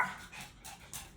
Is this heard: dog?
yes